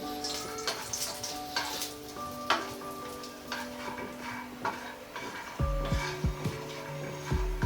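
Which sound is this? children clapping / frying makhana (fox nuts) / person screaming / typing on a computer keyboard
frying makhana (fox nuts)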